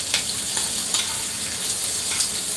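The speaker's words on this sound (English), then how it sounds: "Then I'm gonna add a little bit of garlic. This is minced garlic that I'm using" Minced garlic hitting asparagus in a hot pan, a steady close sizzle with a few brief crackling bursts and stirring scrapes, no voices.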